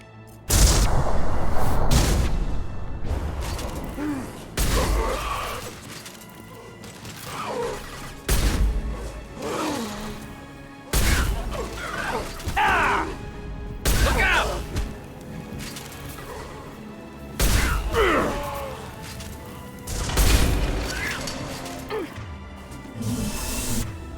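Explosions and blasts in the video game Mass Effect 2 Legendary Edition, a series of loud sudden booms and crashes at irregular intervals, each followed by decaying debris and rumble, with quieter combat noise between.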